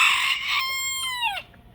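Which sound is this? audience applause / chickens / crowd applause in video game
chickens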